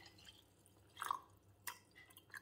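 Water poured into a sterile glass jar over ginger and crystal sugar for homemade ginger beer, heard as a few soft, close splashy drips and trickles in a quiet room.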